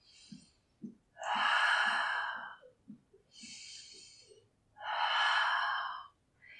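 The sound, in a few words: breathing during a stretching exercise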